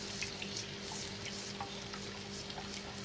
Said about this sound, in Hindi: अब इसमें हम अपना दूध शामिल करेंगे और चमचे चलाते रहेंगे ताकि गुठलियाँ ना पड़ें।